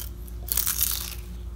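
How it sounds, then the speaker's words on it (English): A single crisp bite into hot, homemade fried lumpia dipped in sauce gives one short, close crunch over a quiet room background. "So crunchy."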